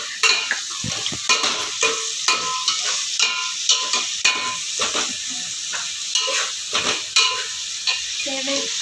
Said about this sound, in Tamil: பொன்னரமாக வதக்கணும்